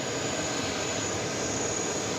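A jet aircraft at JFK airport gives a steady, loud broadband roar, alone and unbroken for a couple of seconds.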